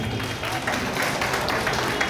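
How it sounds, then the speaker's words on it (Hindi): Audience applause at a bar association and library Holi celebration, a moderate wash of clapping after poem lines, steady and fairly soft throughout the short stretch. "आप यहाँ ताली बजा सकते हैं"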